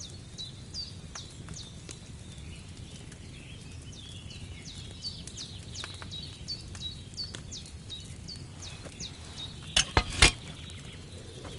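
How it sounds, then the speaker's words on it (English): Wine bubbling in a cauldron over a flame in Kingdom Come Deliverance 2, heard as faint, quick popping bubbles repeating steadily, with a brief clatter near the end. "Hear that bubbling? It's boiling."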